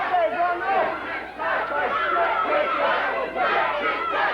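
A wrestling arena crowd at a USWA tag match reacts with a loud, continuous roar of shouting and chatter, swelling and dipping but never quieting.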